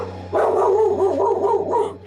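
A pet dog close to the microphone in an indoor podcast recording gives a loud, drawn-out bark-like yelp lasting under two seconds over a low electrical hum.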